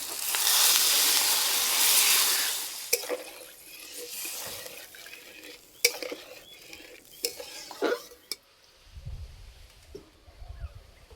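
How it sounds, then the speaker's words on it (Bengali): Water poured into a pan of frying spices and mustard paste while cooking pangas fish curry, a loud rushing hiss at first, then the pan quietening as a spoon scrapes and clinks against it in scattered knocks. "আর এই যে মশলা থেকে তেল ছেড়ে গেছে, এবার জল দিয়ে দেবো।"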